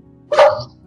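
A dog gives one sharp, loud bark close by, short and sudden against a quiet low hum in an indoor room.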